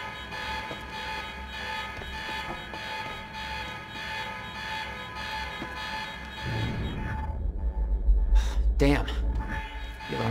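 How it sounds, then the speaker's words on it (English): A steady electronic alarm tone from the video game Quantum Break drones continuously at a loud level, with rumbling game noise and bursts of sound rising over it toward the end. "The alarm must have locked everything down."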